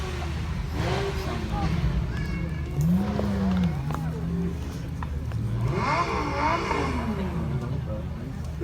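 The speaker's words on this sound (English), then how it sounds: "this is one of our older Lamborghinis, however it's still no slouch, a 2007 Gallardo Spider" A 2007 Lamborghini Gallardo Spider V10 accelerating at a supercar event, its engine rising in pitch in a couple of sweeping revs amid crowd noise, with a commentator talking over it.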